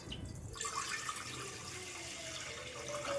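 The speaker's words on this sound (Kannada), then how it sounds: "ಅಲ್ಲಿಗೆ ಒಂದು ಕುಕ್ಕರ್ನ ಇಡ್ತಾ ಇದ್ದೀನಿ ಅದಕ್ಕೆ ಒಂದು ಚೊಂಬು ನೀರು ಹಾಕ್ತಾ ಇದ್ದೀನಿ" Water pours steadily into a metal pressure cooker, a continuous close splashing rush that fills most of the moment.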